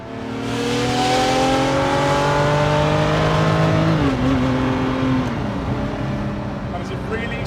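A Ferrari F50 fitted with a Capristo exhaust revs loud and close, with engine pitch climbing and then dropping as it settles. Voices can be heard over the engine.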